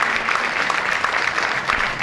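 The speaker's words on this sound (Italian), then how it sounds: "richiamiamo un attimo anche per l'ultimo applauso, Alberto ed Elisa" An audience in Taglio di Po gives a final round of applause to the musicians Alberto and Elisa after an evening of violin music. The clapping is steady and moderately loud, a dense even patter from a crowd.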